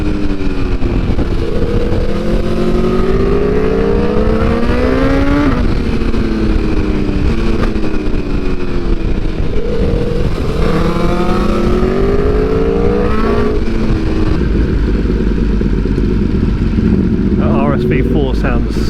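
An RSV4 motorcycle engine revs loud and close, rising and falling in repeated surges over steady wind rush, while a rider on a 2022 BMW S1000R follows on a sunny road.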